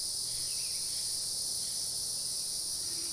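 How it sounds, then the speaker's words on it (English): Cicadas drone outdoors in a constant, high, shrill buzz that holds steady throughout with no pauses, over a faint low background. "ignore the cicadas"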